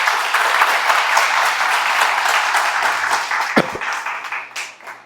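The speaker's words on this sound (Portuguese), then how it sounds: "dá uma grande salva de palmas para a palavra de Deus" A church congregation applauds at a Sunday afternoon service, a dense, steady wash of clapping that holds strong before thinning and tapering off toward the end.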